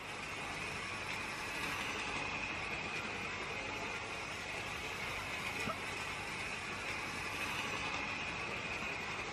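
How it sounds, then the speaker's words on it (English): A small diesel locomotive from an Ibertren starter model train set runs steadily along its track, giving a continuous, even mechanical whirr and rattle at moderate level throughout, with no talking. "so the diesel locomotive does seem to work and has got quite a little bit of speed behind it"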